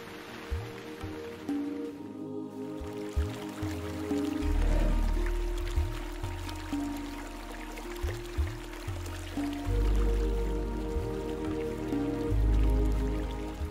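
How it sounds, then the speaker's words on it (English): Floodwater after a sudden deluge surges into the dry Owasso riverbed, a steady loud rushing and gurgling wash of water with splashes, continuous throughout with no voices. "The sudden deluge of rain that had fallen to the west of the reserve rushed into the Owasso riverbed once more"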